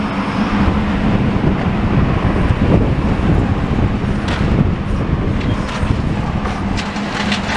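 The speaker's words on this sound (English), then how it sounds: "The wind is at completely the most awkward angle what it could be at. I think it's coming in from the northeast" Strong wind buffeting across a building site, a constant dense roar with gusty rumble and no clear pauses, filling the whole stretch without speech.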